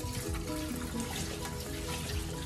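Fish brine being poured off from a container of tuna belly pieces before rinsing, a steady close splashing and trickling of liquid running continuously without pause.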